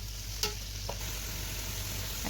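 Onions for mutton biryani sizzle steadily in a pan, with a couple of brief scraping stirs over a constant low frying hiss.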